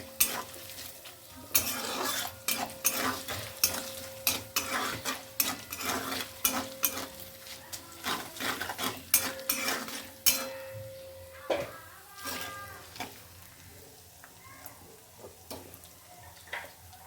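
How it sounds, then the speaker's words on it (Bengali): Chopped coconut frying in a pan for a chana dal dish, with a soft sizzle under repeated sharp spatula scrapes and taps in an uneven rhythm that eases toward the end. "নারকেল কুচিটাকে আমি একটু ফ্রাই করে নেব, লাল করে ফ্রাই করে নেব।"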